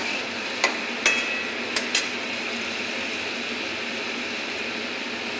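Spice paste frying in a pan for a Malabar spinach, sweet pumpkin and prawn dish, a steady even sizzle with a few sharp clicks of stirring near the start.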